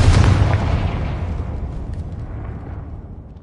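A Confringo blasting spell explodes in Hogwarts Legacy, a single loud low boom at the start whose rumble decays over a few seconds with no talk.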